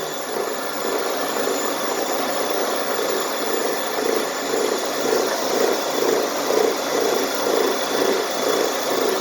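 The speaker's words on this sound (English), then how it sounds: "So set up here at the wire wheel. Hopefully it's not too loud and annoying." A steel wire wheel scours carbon buildup off the cylinder head of a Ford 841 tractor, a steady, loud, continuous whirring grind with no pauses and no talk.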